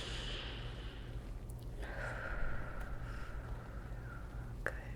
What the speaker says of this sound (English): You can take some deep breaths with me.